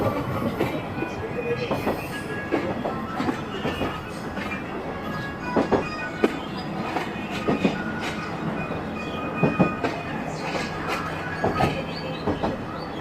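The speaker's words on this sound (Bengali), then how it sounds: "ছুটে চলেছে আমাদের সাগরদাড়ি এক্সপ্রেস রাজশাহীর উদ্দেশ্যে।" The Sagardari Express runs along the rails toward Rajshahi, a continuous rolling rumble from on board with rhythmic clickety-clack beats and occasional wheel squeals.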